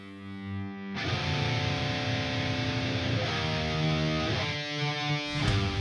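Heavy distorted metal guitars doubled into a thick, wide wall of crunch by a Mimiq Doubler pedal, sustained chords ringing loudly after a short quieter intro.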